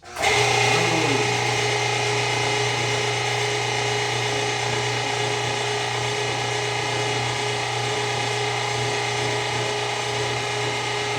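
An electric meat grinder grinding pork: a loud, steady motor hum with a strong tonal whine that continues unchanged throughout, starting abruptly and running alone without talk.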